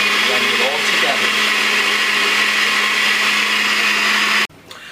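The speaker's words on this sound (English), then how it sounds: "And now we're gonna blend this." A countertop blender runs loud and steady, blending a very full jar of fresh coconut coquito mixture, then cuts off abruptly near the end, leaving a quieter room hum.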